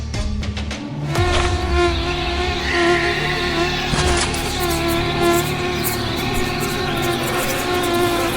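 Disease-carrying mosquitoes buzz in a steady, loud drone that fills the whole scene, with layered tones and no pauses.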